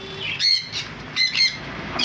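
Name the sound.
pet parrots chirping in a bird shop, conures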